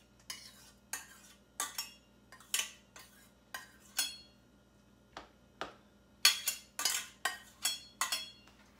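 Turnips go into a small dish in a home kitchen, giving a series of light clinks and taps of cutlery against the dish, close and sharp, spaced irregularly with quiet gaps and a quicker cluster near the end.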